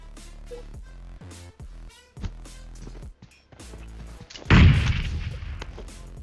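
Gunfire in a mobile battle royale shooter, with a shotgun and Uzi in play: rapid repeated shots crackle through the first seconds, then a grenade's loud booming blast erupts near the end and rumbles out, close and dense.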